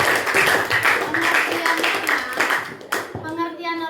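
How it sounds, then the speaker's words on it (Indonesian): A classroom of students claps for a classmate named Akila, a loud burst of quick scattered hand claps with children's voices mixed in, tapering off toward the end. "kita beri aplaus untuk Akila"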